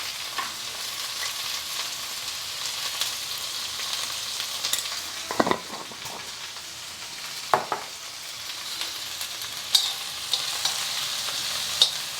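Onions, green chilies and curry leaves fry and sizzle steadily in a pan, with a few stirring scrapes along the way and no one talking.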